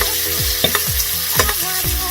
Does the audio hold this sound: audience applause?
no